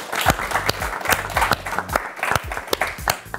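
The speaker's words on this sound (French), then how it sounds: "Oh, on peut l'applaudir." A small audience at a game show claps for a few seconds, loose, uneven hand claps close to the microphone with a light crowd murmur under them.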